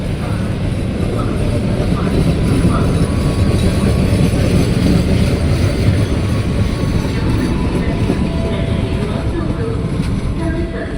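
KA Airlangga, an eight-car economy passenger train, rolls through Cikarang station in a loud, continuous rumble of wheels and cars that holds steady from start to finish.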